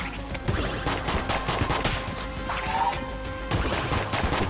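Rapid gunfire from a regular gun in the video game Enter the Gungeon, a steady stream of sharp repeated shots with crashing impacts and busy game noise throughout.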